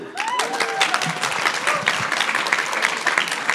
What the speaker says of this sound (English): Why did that deserve a round of applause for?